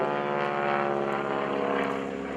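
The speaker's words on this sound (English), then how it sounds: "This airplane does a very large, graceful barrel roll" A propeller airplane drones steadily at an airshow while flying a large barrel roll, its engine buzz constant and fairly loud with a slight swell and fade, no voices over it.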